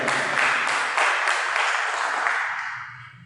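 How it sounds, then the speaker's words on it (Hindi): A hall audience at a Swami Vivekananda birth anniversary celebration claps steadily to welcome a guest to the stage, a dense, even wash of applause that tapers off near the end. "मैं आप सभी से आग्रह करूंगा कि इस तालियों में थोड़ा सा और तेजी लाया जाए"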